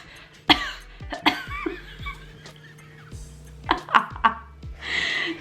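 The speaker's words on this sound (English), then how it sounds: "you have to stomp and cough" Several short coughs with stomping thuds from a woman standing up during an acupuncture session, sharp bursts spaced irregularly through a quiet room, close to the microphone.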